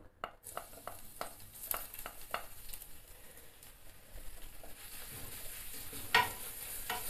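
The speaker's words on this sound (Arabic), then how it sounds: "درنا في المقله شويه تاع الزيت بلديه غادي نشحروا فيه شويه هذا الثومه" Garlic frying in olive oil in a pan, a steady close sizzle running throughout while a utensil stirs and taps the pan in scattered light clicks, growing slightly louder near the end.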